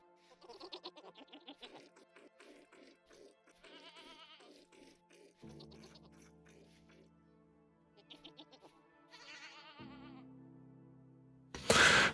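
Goats in the Vintage Story video game bleat in a series of short wavering cries with gaps between, set against soft game tones, ending in a sudden loud burst.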